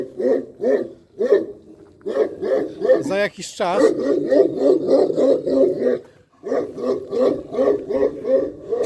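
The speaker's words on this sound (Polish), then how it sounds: "Tu takie ładne psy mamy." Several dogs at a hillside estate in Yalta bark repeatedly in loud, rhythmic bursts with growls and whimpers mixed in, while someone speaks briefly over them.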